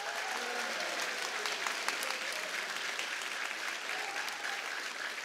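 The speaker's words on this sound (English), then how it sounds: "all a round of applause for Mr. Polka." Sustained clapping from a high school crowd at a cross country state championship celebration, honoring the coach; a dense, even wash of applause lasting about five seconds, moderately close, with no voices over it.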